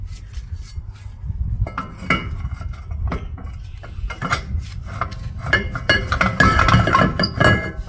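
Metal clanks and clinks as a brake drum is fitted back onto the rear hub of a 2012-2018 Subaru Impreza, with repeated close scraping and knocking that grows busier toward the end, and no talking.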